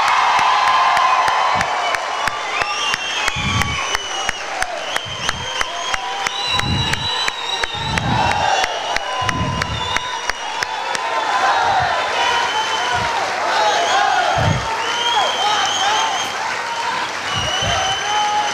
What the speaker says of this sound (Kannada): ಮಿತ್ರರೇ ಇನ್ನೊಮ್ಮೆ ಎದ್ದು ನಿಂತ್ಕೊಂಡು ಚಪ್ಪಾಳೆ ಹೊಡೀರಿ.